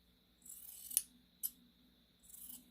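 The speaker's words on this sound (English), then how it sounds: "just take your seam allowance and cut off half" Scissors trim a fabric seam allowance in a few quiet, crisp snips, close by and otherwise silent.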